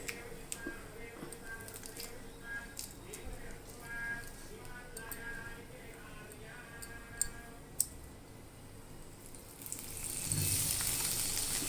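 Cooking oil heating in a pan before pumpkin flowers are dipped for frying gives a faint, steady crackle with occasional ticks, swelling into a louder hiss near the end while someone talks.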